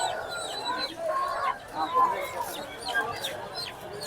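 Chickens at a busy Ugadi market cluck and call now and then, with a few higher bird chirps, under continuous crowd chatter and nearby talking.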